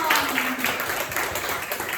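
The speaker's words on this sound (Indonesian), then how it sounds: "Tepuk tangan untuk semua" A classroom of students applauding together, a steady burst of many hands clapping with voices mixed in.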